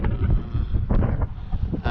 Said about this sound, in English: windy app might be wrong, because it's howling right now